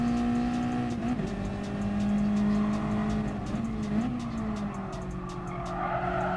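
Race car braking into a corner in a racing game: loud engine drone dropping in pitch as the brakes bite, with tyre squeal and skidding through the turn, then the revs climbing again.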